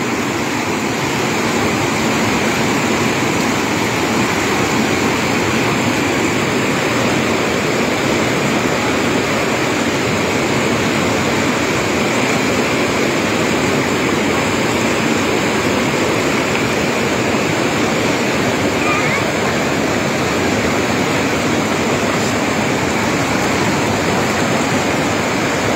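A swollen, flooded mountain stream near Gambharpul roars past at full force, a dense, continuous close-up rush of churning water with no break for nearly half a minute.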